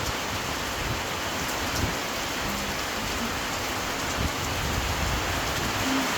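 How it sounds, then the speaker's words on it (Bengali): Rain pours during an afternoon storm with strong wind, a dense, even hiss of drops on surfaces that stays steady throughout, with no talking. "বৃষ্টির পানি পড়ছে।"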